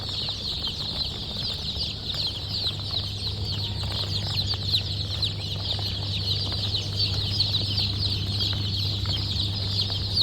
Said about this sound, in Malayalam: ഈ കാണുന്നത്, വീഡിയോയിൽ കാണുന്നത് ഗ്രാമശ്രീ കോഴിക്കുഞ്ഞുങ്ങളാണ്.